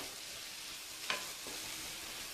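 Thinly sliced capsicum sautés in a pan for a paneer roll filling. A faint, steady sizzle hisses throughout, with one brief clink of a spoon partway through.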